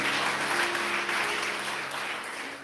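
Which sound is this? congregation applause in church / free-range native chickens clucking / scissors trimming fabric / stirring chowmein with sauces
congregation applause in church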